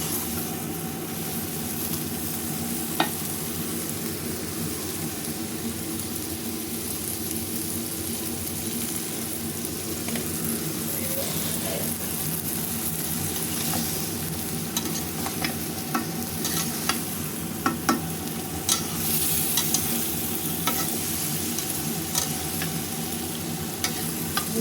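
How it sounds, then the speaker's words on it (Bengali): Chopped cauliflower, broad beans and eggplant are sautéed together in a pan. A constant, even sizzle continues for a long stretch, broken by scattered soft scrapes and taps of stirring, with no one speaking. "সব সবজিটা দিয়ে এভাবে আমি কষাই নিলাম"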